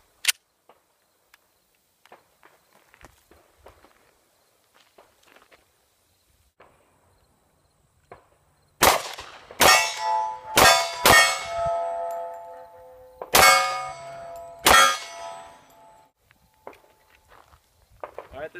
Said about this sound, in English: let's just shoot it a few times and see what it's like